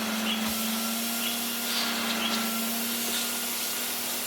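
Vax Rapide 5150 3-in-1 vacuum cleaner running on its low setting with a fresh paper bag fitted, a steady close whooshing airflow over a constant motor hum, unbroken and alone.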